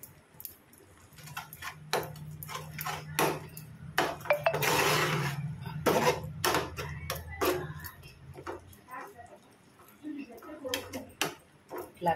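Gongura mixture worked together by hand in a bowl, with irregular soft clicks, taps and squelches of fingers against the metal, while someone talks over the mixing.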